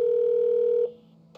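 A steady telephone tone holds loud and even for most of a second in the Escape Academy video game, then cuts off abruptly, leaving quiet before a short click.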